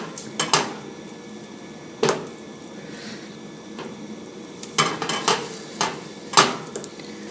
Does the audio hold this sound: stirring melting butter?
yes